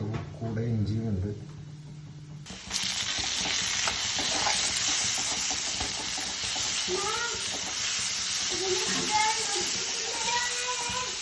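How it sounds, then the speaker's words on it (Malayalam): Chopped green chillies with ginger sizzling in a pan for a chicken curry, a dense, steady hiss that starts abruptly and runs on loud and close, with a voice speaking over it and faint background chatter. "ഈ പച്ചമുളക് അരിഞ്ഞ് വെച്ചേക്കുന്നത് നമ്മൾ ചേർക്കാൻ പോവുകയാണ്."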